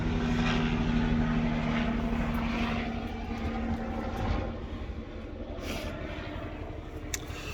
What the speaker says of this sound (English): I'll let this helicopter go through and shut up for a second